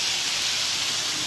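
Water hits a hot cumin and mustard seed tempering in a pan and sends up a loud, steady hissing sizzle that holds level with no break.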